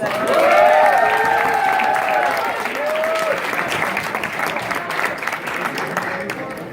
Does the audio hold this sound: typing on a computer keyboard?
no